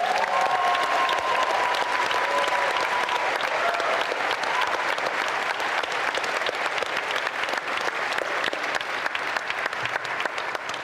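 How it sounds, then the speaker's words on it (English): A large crowd applauds steadily and loudly at a documentary premiere, sustained clapping throughout with a few faint whistles near the start. "But can we have a round of applause for HY?"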